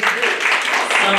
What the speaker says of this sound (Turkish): Alkışlayalım.